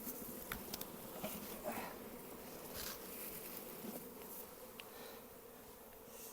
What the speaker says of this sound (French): Un bel essaim récupéré que je vais mettre là.